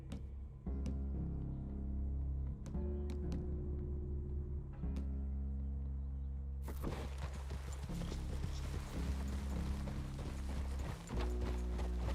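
Horses clip-clopping at a steady walk in Red Dead Redemption 2, hooves knocking rhythmically over a low sustained musical drone, with a brighter, busier stretch midway.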